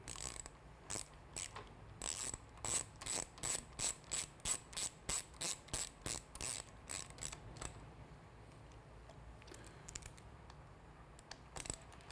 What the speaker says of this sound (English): Install the end cap using your 4mm Allen hex bit.